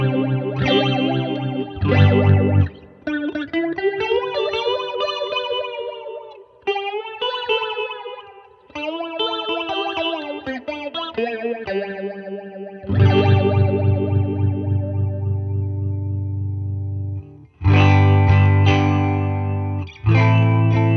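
Electric guitar played through a Catalinbread Many Worlds phaser pedal at a fast rate, giving a bubbly, swirling tone over distorted chords and single-note runs, with several pauses between phrases and no talking.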